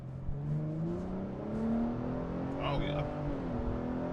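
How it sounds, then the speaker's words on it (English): A 2023 Ford Raptor truck with a twin-turbo V6 accelerates from the cabin, its engine note rising steadily in pitch through a gear and then dropping at a shift. A man briefly exclaims. "So we'll give this thing a little acceleration and see how that twin turbo"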